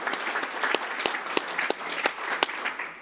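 An audience applauds Bill McKibben with sustained clapping, a few sharp individual claps standing out above the steady crowd wash.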